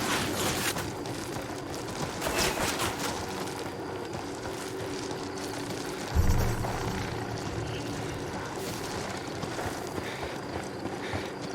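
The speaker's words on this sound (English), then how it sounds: "Chopper inbound." Helicopter flying in a video game, a continuous rotor and engine drone with shifting intensity and a brief low thump partway through, no talking.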